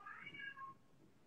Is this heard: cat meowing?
yes